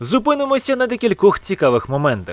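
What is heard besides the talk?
No everyday noises stand out.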